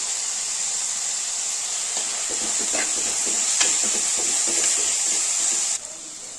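Sliced onions sauté with salt in a pan, giving a steady close sizzling hiss with small crackles and faint scraping taps throughout.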